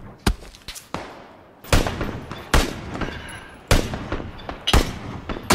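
Loud gunfire in PUBG (Battlegrounds), several sharp close shots and short bursts spaced irregularly, each booming with a decaying tail.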